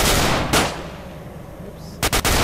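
Loud, close gunshots in a night-time video game firefight in Bloodsucker Village: one blast at the start, another shortly after, then a quick cluster of three rapid shots near the end, with quiet ambience between.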